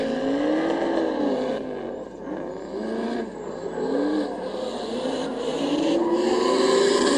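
Two drift cars at full throttle in tandem during the King of Desert drift championship in Oman, engines screaming and rising and falling in pitch as they slide, loud and continuous with tire scrub.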